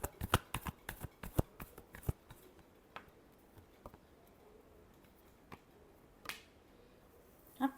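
Tarot cards being shuffled by hand in a quiet room, a rapid cluster of sharp riffling snaps at first, then sparser single flicks and taps spaced apart, close and fairly soft with no talking.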